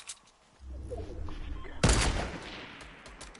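A single loud sniper rifle shot in a video game, cracking sharply over a low rumbling background and then fading into a lingering echo.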